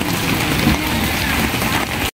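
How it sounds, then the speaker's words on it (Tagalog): Rain falling on covered stalls at an outdoor tiangge market in Meycauayan and Marilao, a steady close hiss of drops that cuts off abruptly after about two seconds. "Umulan na siya talaga."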